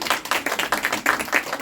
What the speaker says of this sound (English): We will give a round of applause to all the kids for attending.